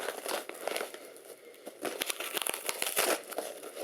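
Styrofoam packing peanuts rustle and squeak as a battered shipping box is torn open by hand, a close, busy crinkling and crunching with bursts of tearing.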